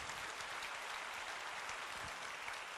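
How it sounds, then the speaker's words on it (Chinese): Audience applause at a lecture hall talk, a sustained dense patter of many hands clapping, faint and distant, with no voices over it. "让我们热烈掌声，谢谢他"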